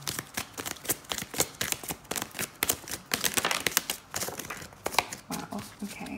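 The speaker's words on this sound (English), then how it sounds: "And let's start shuffling for this spread." Tarot and oracle cards being shuffled by hand for a reading spread: a quick run of dry, papery riffles and flicks, close and fairly soft, with no talking.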